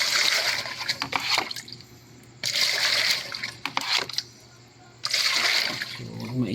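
Water pouring into a container during a water shortage, bursts of splashing gushes alternating with quieter trickling gaps, fairly close.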